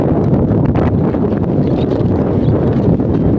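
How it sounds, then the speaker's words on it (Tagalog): Loud, gusty wind buffets the microphone nonstop, a dense roaring rumble with a few rustling crackles, no voices. "Ang lakas ng hangin dito lang."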